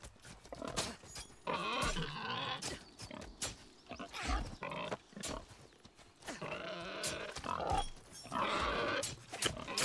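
Pigs in the video game Nightingale, grunting and snorting in repeated bursts amid scuffling game sounds, fairly close and without talk.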